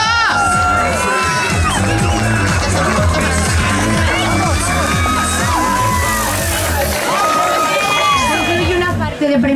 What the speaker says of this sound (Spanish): ¡Bien, aplauso!